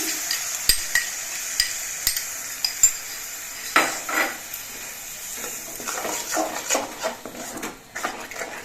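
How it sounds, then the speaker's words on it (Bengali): A spoon scrapes and stirs thick spice paste with whisked sour curd in a metal wok, with sharp clinks of utensil on metal and a soft background hiss, no talking. "টক দইটা দিয়েও আমি কিছুক্ষণ কষিয়ে নিয়েছি"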